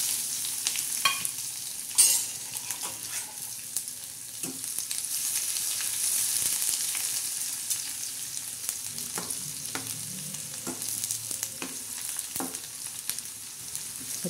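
Tadka for moong and toor dal varan crackling in hot oil, a continuous close sizzle with scattered pops and occasional stirring scrapes, no voices.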